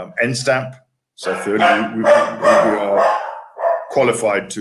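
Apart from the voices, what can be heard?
dogs barking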